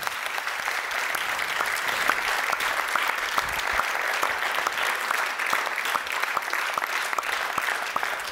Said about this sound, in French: t'entends un tonnerre d'applaudissements